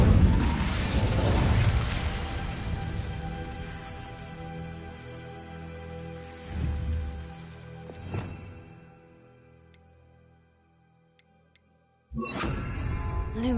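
Incendio fire spell cast in the Hogwarts Legacy video game: a loud fiery whoosh and burst that decays into crackling, followed by further soft thumps, a near silence with faint clicks, then another burst.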